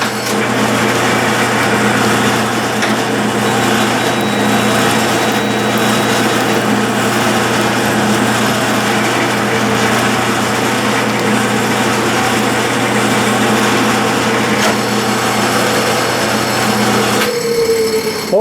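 A tapping machine runs a tap through a nut with a steady motor whine and a low hum that holds evenly for many seconds before a change at the end, with no voices.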